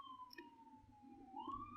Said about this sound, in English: Okay, police siren, I apologize if you guys could hear that